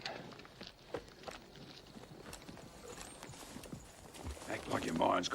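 Horses move off in an old Western setting, their hooves clip-clopping at an uneven trot on hard ground and growing louder toward the end, with faint voices in the background.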